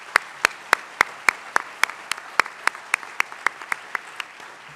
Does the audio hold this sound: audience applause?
yes